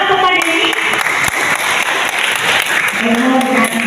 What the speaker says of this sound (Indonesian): Tepuk tangan kepada ini